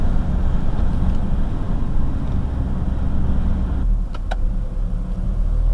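A classic Citroën DS drives by in Paris traffic with a steady, fairly loud engine and road rumble. The noise eases off slightly near the end, and a couple of faint clicks follow.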